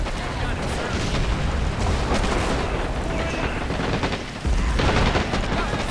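Artillery and gunfire thunder through a battle in Men of War: Assault Squad 2, a dense mix of booms and shots with a heavier blast near the end, while a player talks over it.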